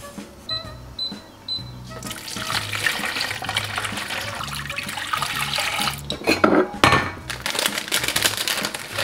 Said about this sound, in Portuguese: Agora vou repetir o processo todo, pôr água a ferver, voltar a pôr tudo isto lá dentro